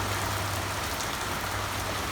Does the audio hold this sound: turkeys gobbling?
no